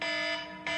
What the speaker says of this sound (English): it's an alarm going off